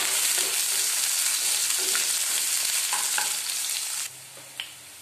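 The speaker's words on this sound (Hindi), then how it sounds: "हरा मिर्च रख लूंगी मैं और डालूंगी प्याज। इन सबको मैं ब्राउन होने तक भून लूंगी।" Green chilies, onion and mustard seeds frying until brown, a dense sizzle with scattered spoon scrapes and taps, close and fairly loud, easing off toward the end with a single clink.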